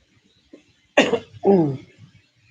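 Two harsh, phlegmy coughs close to the mic in a hospital, one sharp burst followed by a slightly longer, throatier one, in an otherwise quiet room.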